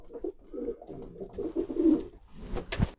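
Racing pigeons coo close by in low, throaty rolling calls, several phrases in a row, ending with a brief sharper noise.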